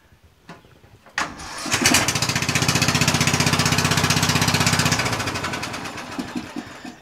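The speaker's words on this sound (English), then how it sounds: "Let's see if the engine starts easier now." A Murray lawn tractor engine, freshly valve-adjusted, cranks and catches with a loud rapid chugging rumble, runs steadily for several seconds nearby, then winds down and sputters out.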